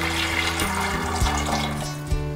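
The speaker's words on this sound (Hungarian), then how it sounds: "és akkor föltöltöm vízzel" Tap water poured into a pot of yellow split peas for a festive soup, a steady close rush of filling liquid with a low hum running underneath and a couple of brief splashy surges.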